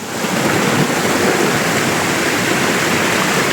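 Küp Waterfall in Aladağ, Adana, Turkey, pours over rocks in a loud, steady roar of rushing water that fills the whole clip close up, with no voices.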